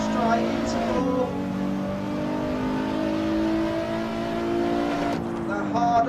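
A Nissan GT-R Nismo engine in Assetto Corsa holds steady, rising harmonic tones as it accelerates down a straight at Tsukuba, then drops pitch on a shift near the end, with a voice speaking over the continuous drone.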